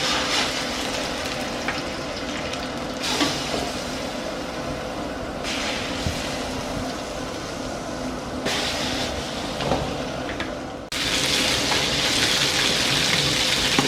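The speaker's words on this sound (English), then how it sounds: "The rest are going in my pan. All right, let's get these babies browned up." Chicken pieces browning in a pan give off a dense, steady sizzle that fills the whole stretch, with occasional small pops. The sizzle grows slightly louder toward the end.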